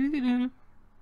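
A human voice imitating a bird song with a single short whistled, tonal chirp lasting about half a second, close and clear, followed by faint room quiet.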